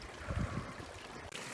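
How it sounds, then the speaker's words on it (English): Steady splashing and trickling water, a small warm waterfall near a hot spring basin in Yellowstone pouring continuously, fairly close and soft, with no voices. "A mini little waterfall."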